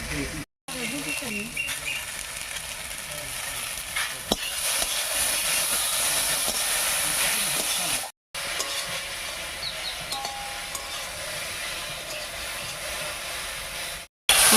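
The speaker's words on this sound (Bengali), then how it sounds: "লতির সঙ্গে একটু ভাজা ভাজা মতো করে নিয়েছি" Taro stolons (kochur loti) frying in a pan with garlic and green chilli paste: a steady, close hiss of frying that runs almost without break, cut by a few brief silent gaps.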